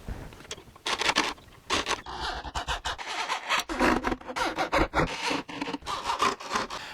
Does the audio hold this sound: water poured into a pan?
no